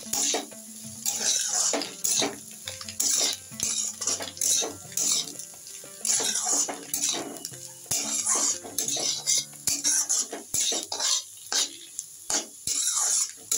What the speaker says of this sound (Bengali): দিয়ে এটাকে ভালো করে নাড়াচাড়া করে নেব।